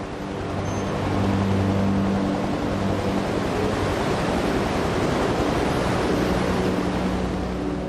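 Heavy storm seas of eight to ten metre waves pound around a crippled, listing ship without engines, a loud, dense roar of surf and wind that swells early and then holds steady and unbroken.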